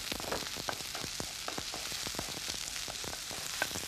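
Spring onion and sliced garlic cloves fry in a hot pan with a steady, dense sizzle and crackle, punctuated by small pops and spatters throughout, with no talking.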